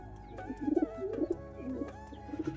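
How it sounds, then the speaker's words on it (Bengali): Pet pigeons at a family home coo in several soft, low, rolling phrases at close range, with no talking over them. "তোমাদের আমার বাড়ির কবুতর যে কটা আছে দেখাচ্ছি"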